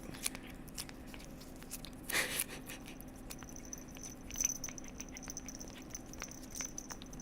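A cat eagerly eating a Churu treat, quiet close-up licking and smacking with a couple of louder bursts of chewing, no talking.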